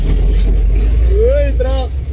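Heavy traffic roars close by on a busy road, with a large vehicle rumbling past and a voice calling out briefly over the engine noise.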